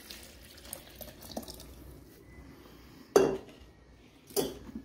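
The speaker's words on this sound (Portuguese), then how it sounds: "eu estou utilizando água da torneira temperatura ambiente" Room-temperature tap water runs into a container, a faint trickle punctuated by two louder splashing clatters of the vessel near the sink.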